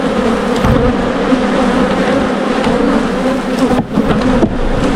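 Honeybees buzz loudly and steadily from an open hive during an inspection, a dense close drone that barely changes over several seconds.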